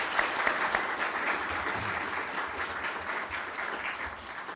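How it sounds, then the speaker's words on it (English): An audience at an event in Arkansas applauds a visiting chairman, a dense and steady wash of clapping that holds at an even level throughout, with no voices standing out. "Please give Chairman Chu a round of applause."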